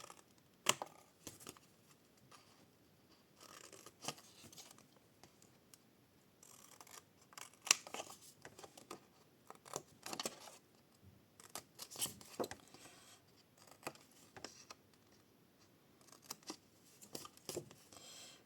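Excess material trimmed from a handmade storage box with scissors: soft, irregular snips and small crisp cuts, close but faint, scattered in short bursts with quiet gaps and no speech.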